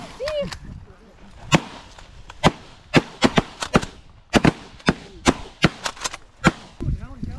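Rapid shotgun fire cracks out during an early-season Canada goose hunt in Michigan, a dozen or more sharp blasts in an irregular volley from several hunters, some near and some farther off, with people talking between shots.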